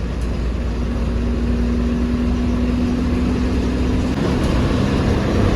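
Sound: local deluxe bus driving past on the road

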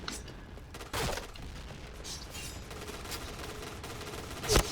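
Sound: Famas G2 gunfire in the video game Point Blank

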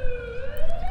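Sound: ambulance siren in video game The Coma: Recut

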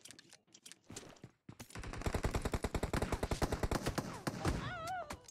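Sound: gunfire from a distant enemy in video game BGMI

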